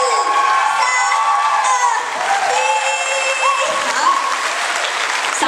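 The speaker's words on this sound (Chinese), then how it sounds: "你可以给我最热闹的掌声鼓励五秒钟吧" A concert audience bursts into loud, sustained applause mixed with cheers and whoops, a dense crowd clatter lasting the full stretch with no voices from the stage.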